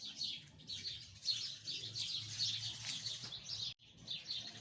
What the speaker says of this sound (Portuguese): Olha os passarinhos cantando.